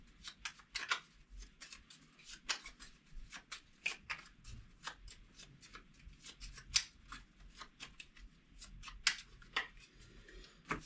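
Cards shuffled for the Heat: Pedal to the Metal board game, a series of quiet, crisp riffling flicks and snaps repeating irregularly over about ten seconds, close but soft.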